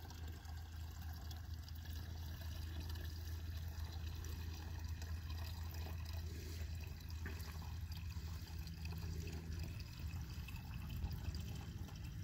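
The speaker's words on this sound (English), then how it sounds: "this is a 370 watt water well pump and it's rated for 65 meters of head, running on some Santan Trina solar panels" Water from a 370 W, 24 V solar-powered well pump rated for 65 m of head pours steadily into a pond, a continuous close splashing rush with a low rumble that holds for the whole stretch, with no one talking.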